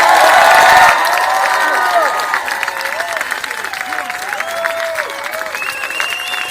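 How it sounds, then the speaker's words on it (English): A crowd at a Ferguson protest claps and cheers, a loud burst at first that settles into sustained applause with shouts and whistles, heard close. "Everybody, give yourselves a round of applause"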